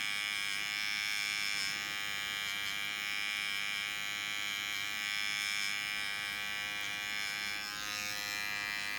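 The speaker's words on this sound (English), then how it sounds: "Using the rose gold trimmer, already 0 gapped." A rose gold electric hair trimmer, zero-gapped, buzzes continuously and steadily up close during a barber's line-up.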